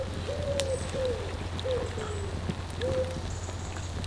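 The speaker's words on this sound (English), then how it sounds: "It's a pigeon." A pigeon coos from the trees of a woodland at dusk beside a campfire cookout, giving four or five soft, moderately distant calls over a steady low background hum.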